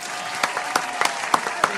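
An audience gives a round of applause, steady and dense but fairly soft, with a few sharper claps standing out.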